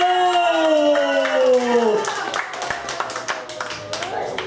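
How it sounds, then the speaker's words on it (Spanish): Guests at a 50th birthday party clap after a sustained sung or called note fades, the clapping coming in irregular bursts of moderate loudness with voices mixed in. "¡Aplauso para Lucerito!"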